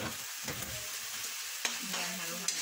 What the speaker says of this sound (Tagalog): Yan, halo-halo natin.